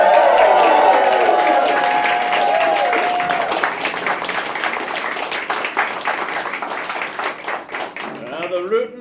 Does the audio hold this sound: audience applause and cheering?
yes